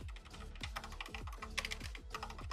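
Keys tapped on a Monster Airmars KMH5 mechanical gaming keyboard, a quick run of close, crisp clacks with some mushy rattling strokes, about a dozen presses in uneven rhythm, no talking.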